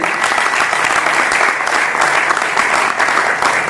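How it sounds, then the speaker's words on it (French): Audience at a Congolese young entrepreneurs' event applauds itself, dense continuous clapping that is loud and sustained throughout with no voices over it. "Est-ce que vous pouvez applaudir pour vous-même?"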